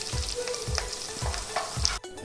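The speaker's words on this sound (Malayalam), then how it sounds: "ഒരു 100 ഗ്രാം നുറുക്ക് അണ്ടിപ്പരിപ്പും ചേർത്താൽ ഇങ്ങനെ നമ്മളൊന്ന് നെയ്യിൽ വഴറ്റി നിൽക്കുക" Chopped cashew nuts frying in ghee for Kerala parippu payasam, a close steady sizzle with rhythmic scraping stirs of a spoon in the pan, no voices.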